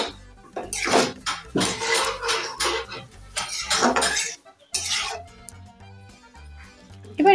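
A spoon scrapes and clatters against a metal pot while sago khichuri is stirred, a run of irregular clinks and scrapes close by, followed by quieter, lighter taps.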